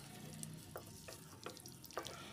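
Fried potatoes stirred into a spice paste in a pan, with faint steady sizzling and several soft scrapes and taps of the spatula at an irregular rhythm, heard up close but quiet.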